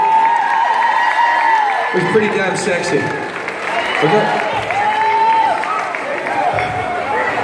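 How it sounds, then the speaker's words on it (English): Audience at a live band show applauds and cheers the band members, a loud sustained burst of clapping and whoops while someone talks over it. "round of applause for my slow dancing band members."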